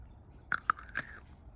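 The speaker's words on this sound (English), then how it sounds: "You can hear how crunchy it is too." A crunchy green sour Persian plum is bitten and chewed, giving three or four sharp, close crunches over about half a second, followed by softer chewing as it fades, with no talking.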